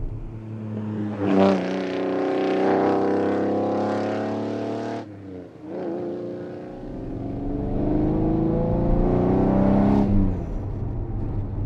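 A straight-piped flat-12 in a Koenig Specials Ferrari Testarossa revs hard, with two loud rising pulls separated by a brief lift, a raw harmonic roar close by and no voices.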